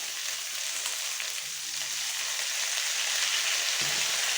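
Shukto, a Bengali vegetable dish, fries in a pan with radhuni paste and ginger paste stirred in. A bright, even sizzling hiss continues close by throughout, with faint low knocks of stirring beneath it.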